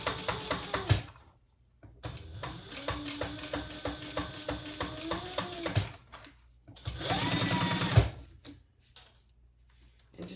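Domestic sewing machine stitching a curved section near a zipper, running in several bursts of rapid even clatter separated by brief pauses, close and fairly loud.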